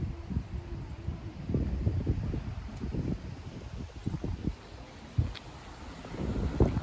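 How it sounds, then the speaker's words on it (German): Wind buffets a microphone outdoors at a train station in Salzwedel, a constant low, rumbling roar with gusty swells and no speech over it. "Und der Wind nervt schon wieder."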